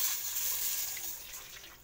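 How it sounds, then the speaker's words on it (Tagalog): Coconut milk poured into a pan while cooking ginataang alimasag, a steady watery gush and splash that slowly fades, close and fairly quiet with no talking. "pwede na natin ilagay ang ating gata."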